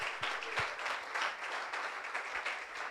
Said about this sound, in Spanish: Dale esas palmas bien fuerte al Señor